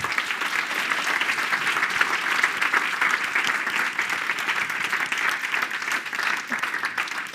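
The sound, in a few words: audience applause for speakers and volunteers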